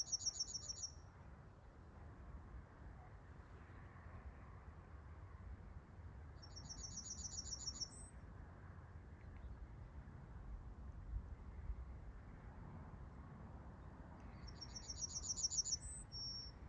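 A yellowhammer sings in three short bright bursts spaced several seconds apart, faint and distant over a low, quiet outdoor background.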